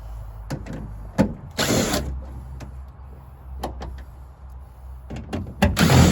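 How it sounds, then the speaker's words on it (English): Several short bursts of a power drill removing door panel bolts on a Toyota Tundra, whirring and stopping, interspersed with clicks and clunks of metal parts, close up with no talking. "just use a drill for faster removal"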